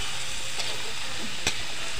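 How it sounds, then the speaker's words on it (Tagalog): Potatoes and carrots sauté in hot oil for Ilonggo-style afritada, cooked outdoors: a constant close, loud sizzle, broken by a couple of sharp stirring scrapes. "So first ay igisa muna natin yung patatas at saka carrots para malinamnam ang lasa."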